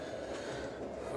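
Steady interior rumble of a moving passenger train, a continuous broadband roar with low rattling texture held at an even level throughout, no voices.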